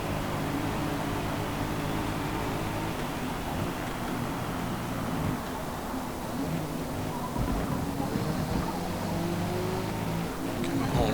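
Race car engines in Forza Motorsport, including a BMW Z4, drone steadily at high revs along a straight, a constant loud whine and roar throughout with little change in pitch.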